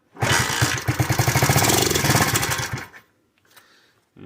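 A KC pit bike, sitting unused for over three years, fires on starting fluid and runs roughly for about three seconds with a rapid, uneven putter, then dies abruptly into near silence with a few faint clicks.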